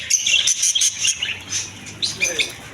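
Budgerigars and zebra finches in a bird shop keep up a dense, continuous chorus of bright chirps and tweets, several birds calling over one another close by with no voices.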